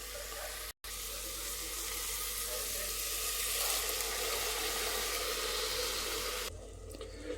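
Ground tomato goes into frying onions for a South Indian sundaikai poondu kuzhambu, giving a loud, continuous close sizzle that holds steady and then drops slightly in level near the end, after one brief cut.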